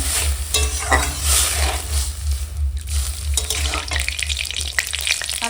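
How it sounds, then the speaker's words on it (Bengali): Boiled lentils, mixed with salt and turmeric, go into a hot pan and are stirred. A loud, close sizzle rises with wet sloshing and scraping under the stirring, and no one speaks. "এখন এই সিদ্ধ করা ডাল দেবো"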